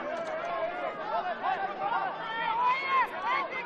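A sizeable evening crowd at Service FM Stadium during an Australia Cup qualifying final, Campbelltown City against Adelaide Comets, gives off a steady murmur of chatter and hubbub, with individual voices rising and falling inside a continuous babble.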